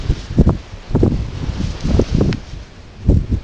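Cold mountain wind at Pawnee Pass hits the microphone in close, uneven gusts, a series of low buffeting rumbles and rustling bursts with no speech.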